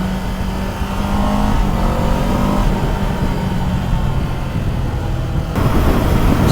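A 2024 Kawasaki Z7 Hybrid motorcycle cruises on a highway, a loud, steady engine and road roar thick with wind noise and no speech.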